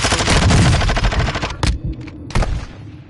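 Gunfire in the video game Call of Duty Warzone 2: a dense, loud burst of rapid automatic shots, then a few separate sharp reports as the firing tails off, with no talk over it.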